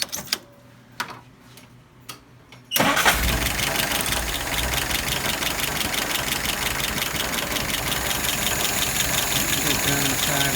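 An engine cranks and fires after a few quiet seconds of faint clicks and shuffling, then settles into a loud, steady idle that runs on, with a fast ticking rhythm in its note.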